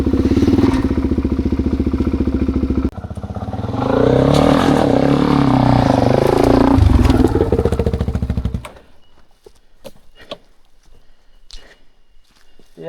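A Suzuki DRZ dirt bike engine runs loud and close, a steady buzzing drone that dips, then surges into a rising, wavering rev before cutting out abruptly, leaving quiet scuffs and faint clicks.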